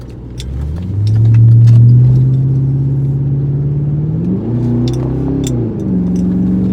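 Deep, throaty exhaust drone from a 2003 Lincoln Town Car with muffler and resonator deleted, swelling as the engine revs, then settling and rising again in pitch, loud and close with no talking.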